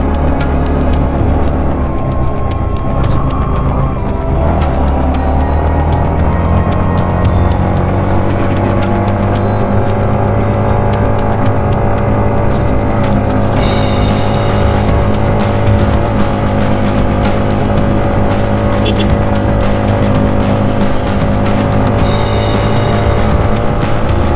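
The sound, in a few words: motorbike engine straining up steep road in low gear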